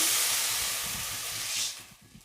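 Loud steady hiss and steam as a little water is poured into a hot pan of frying plantain, fading gradually toward the end.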